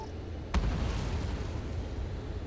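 In the Ace Combat 7 combat video game, a single close explosion hits sharply, then anti-air fire and blasts rumble on continuously at a steady level.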